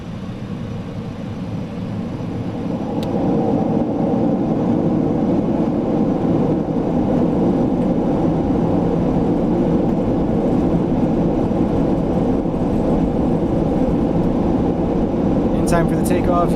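Concorde jet engines spool up for takeoff in a flight simulator, a broad steady roar that climbs over the first few seconds and then holds loud and constant.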